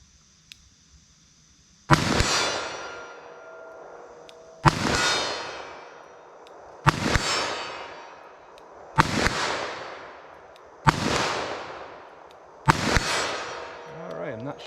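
A .357 Magnum revolver fires six double-action shots, each a sharp, loud crack with a long ringing echo, spaced about two seconds apart at an outdoor range.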